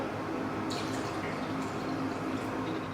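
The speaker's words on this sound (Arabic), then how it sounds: "راح احط كوبين ماي بارد، وهذا الكوب الثاني" Cold water pours into a container from two cups in turn, a soft trickling splash under steady background hiss.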